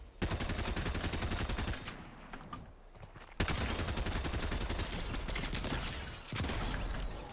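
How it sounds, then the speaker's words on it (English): Rapid, sustained SMG bursts in Fortnite, loud and close, with a short pause mid-way before the rattling automatic fire resumes for several more seconds. "Wow, that is that SMG"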